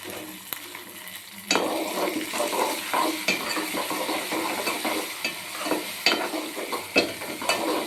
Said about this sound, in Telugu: కొత్తిమీర కూడా కొంచెం నూనెలో వేస్తే బాగుంటుందని కొత్తిమీర కూడా వేస్తున్నాను